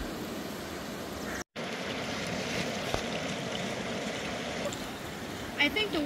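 Steady rushing of the flowing San Joaquin River fills the scene continuously, fairly close, with a brief dropout and a faint clatter near the end.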